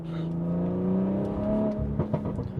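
A BMW B58 straight-six with a DCE 200-cell downpipe revs in third gear, a steady rising engine note held close and loud for about two seconds before easing off, with no talk over it.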